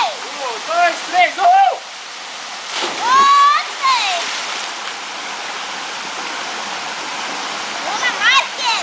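Waterfall at Cachoeira do Mindim pours into a natural pool as a steady, loud rushing wash throughout, while several people shout and talk over it in bursts.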